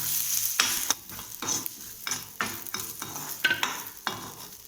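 Grated coconut is stirred and sautéed in a pan, giving a rhythmic series of scraping spatula strokes over a soft, continuous sizzle, close and moderately loud.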